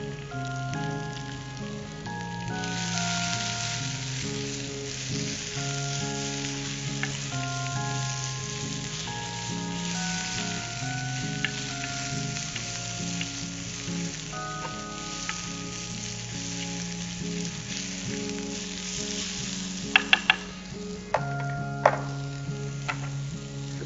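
Ginger and green chili frying in oil in a pan with a pinch of asafoetida for radish pachadi, a steady crackling sizzle throughout with a few sharp clinks near the end, no talk.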